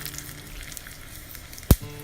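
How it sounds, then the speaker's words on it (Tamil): Two dried red chillies sautéing lightly in oil for palak keerai kadaiyal: a soft, continuous frying hiss close by, broken by one sharp loud clack near the end. "இப்போது நான் இதில் நான் 2 காஞ்ச மிளகாய் ஆட் பண்ணிவிட்டு லைட்டாக வதக்கிட்டு"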